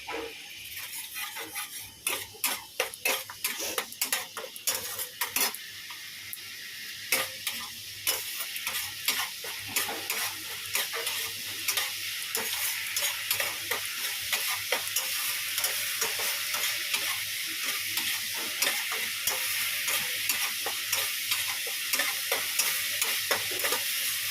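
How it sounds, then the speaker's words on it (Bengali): Spice paste thickened with poppy seeds stir-fried in a pan, a steady sizzle overlaid with repeated scraping strokes of a spatula, close and fairly loud, growing denser toward the end with no talking. "ভালো করে মশলাটা কষাতে হবে"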